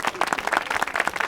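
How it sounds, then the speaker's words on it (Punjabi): Audience applause from a crowd at a Punjabi film event, a short burst of dense, fairly close clapping with an uneven rhythm. "ਤਾੜੀਆਂ ਜੀ, ਤਾੜੀਆਂ"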